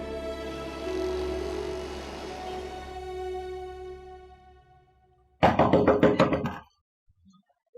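Several loud, rapid knocks on a door ring out together in one close burst after a quiet stretch of soft, tonal background music in a drama scene.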